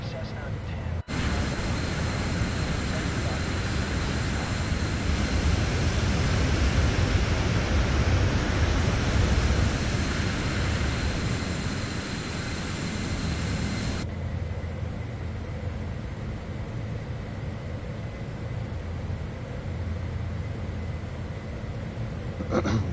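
Steady broadband engine and wind roar of a Cessna private jet descending in Microsoft Flight Simulator 2024, loud and continuous before dropping abruptly to a quieter, duller cabin hum partway through.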